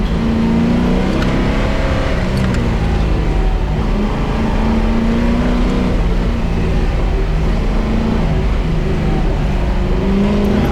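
A race car is driven hard through a timed run, its engine roaring loud and steady throughout as it slides and drifts through corners with locking tires, pitch rising and falling with throttle.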